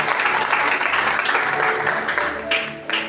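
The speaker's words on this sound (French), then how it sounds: "Acclame Jésus" Congregation in a church breaking into sustained applause, dense clapping that fills the space steadily, with a few louder claps standing out near the end.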